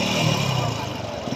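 A motorcycle engine is revved after a road accident that broke its indicator, giving a loud, close, continuous rough roar that climbs in pitch with no talk over it.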